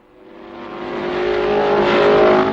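A 1955-era race car at the 24 Hours of Le Mans endurance race, its engine swelling steadily from faint to a loud, close roar over a couple of seconds, heard alone.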